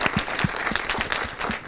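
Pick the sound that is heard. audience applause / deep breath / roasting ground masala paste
audience applause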